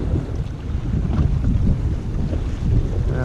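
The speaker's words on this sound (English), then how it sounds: "that wind and the wind has really picked up" Strong wind buffeting the microphone from a fishing kayak on the water off central Queensland, a continuous loud low rumble with splashing texture.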